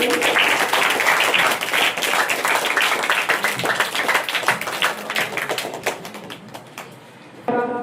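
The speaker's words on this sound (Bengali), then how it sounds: "জোরে হাততালি" An audience at a school Quran memorisation (hifz) prize event gives loud applause for the fourth-place winner, dense clapping that gradually thins and tapers off toward the end.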